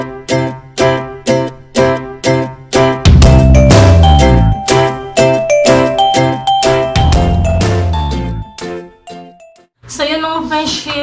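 A bright notification bell jingle rings out in a rapid run of repeated chiming dings, loud and close, then breaks into a fuller cluster of tinkling tones before a short closing flourish.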